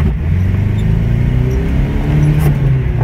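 A 1980 Subaru Brat's boxer engine runs close by at a steady, loud idle-to-rev drone, its low throbbing note holding throughout with a slight lift near the end.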